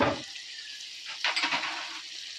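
Chillies sizzle steadily in hot oil in a pan, with a brief burst of scraping as they are stirred, close and clear with no talking.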